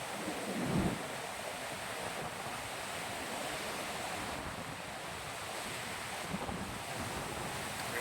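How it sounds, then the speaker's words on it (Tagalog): Sea surf washing against the shore beside a villa's swimming pool area, a steady broad rush of waves with wind buffeting the microphone, fairly faint and without voices. "Napakagandang dagat."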